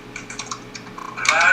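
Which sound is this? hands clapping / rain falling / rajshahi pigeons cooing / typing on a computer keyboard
typing on a computer keyboard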